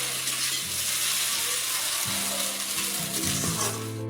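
Food frying in a pan during home cooking, a continuous close sizzle with intermittent stirring and scraping sounds, alone with no talk.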